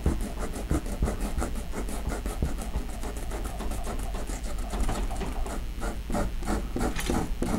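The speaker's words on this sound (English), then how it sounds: "This is designed to take off masking fluid. You just sort of rub it on there and it just picks it all up." Masking fluid remover rubbed over watercolor paper: a steady, close scratchy rasping of rapid back-and-forth strokes, fairly quiet and continuous, with no voices.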